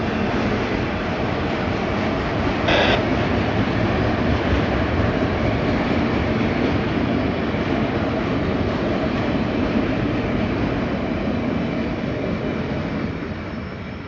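A long freight train rolls steadily past on railroad tracks, a loud continuous rumble and wheel rattle that holds for the whole stretch before easing slightly at the end, with no talk over it.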